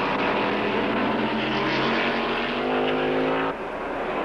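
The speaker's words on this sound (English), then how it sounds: "Here is Tambay, the dominant force in the Can-Am Challenge, starting the last of 63 laps" Can-Am sports racing cars at speed at Mid-Ohio, a loud, sustained engine roar with a rising pitch that peaks and then drops off as the cars pass.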